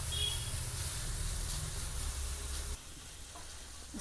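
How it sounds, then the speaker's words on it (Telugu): Ingredients sizzling and frying in a pan during home cooking, a steady close hiss with light stirring scrapes, dropping slightly partway through, no voices. "సో ఒక 2 minutes ఇవి ఫ్రై అయ్యేంత వరకు వెయిట్ చేయాలి."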